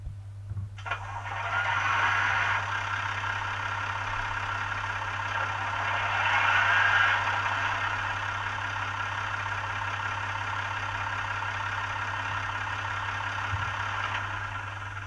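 A PIKO model railbus fitted with a factory sound decoder plays its simulated diesel engine sound, a steady idling drone that swells slightly at times and holds evenly throughout.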